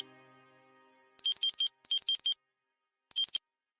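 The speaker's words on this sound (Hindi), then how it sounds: "कब से फोन कर रही हूँ, उठा क्यों नहीं रही है?" A mobile phone rings with an incoming call, sounding three bursts of bright, warbling electronic tones separated by short pauses, after a fading tone at the start.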